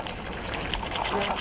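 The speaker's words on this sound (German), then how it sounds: "Im Prinzip braucht man nur das Pool-UFO, ein bisschen Wasser und dann spült man den hier einfach mal" Water gushes steadily as it rinses out a Steinbach Poolrunner Battery Basic cordless pool robot, a continuous close rush of spray with someone talking over it.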